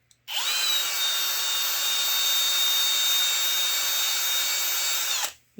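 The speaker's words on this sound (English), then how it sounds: "and just run your drill" A power drill spinning a wire brush whirs steadily at high speed for about five seconds, starting abruptly and winding down at the end, close and loud.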